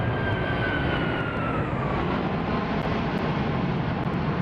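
A ToLiss A340-600 airliner passes by in a flight simulator game, a steady, loud engine roar with a slowly falling whine as it flies past, alone without talk.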